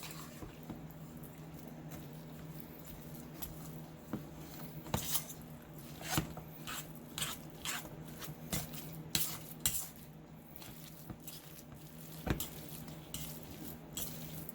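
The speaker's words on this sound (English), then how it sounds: "Try to blend the cheese all together the best you can" Shredded cheeses, including mozzarella, being stirred together in a mixing bowl, with repeated scraping and clinking of a utensil against the bowl in an uneven rhythm; no talking.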